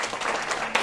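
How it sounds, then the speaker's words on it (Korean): A church congregation at a Friday prayer meeting claps for an engaged couple marrying the next day, a brief, even wash of many hands close by. "한번 박수 한번 합시다"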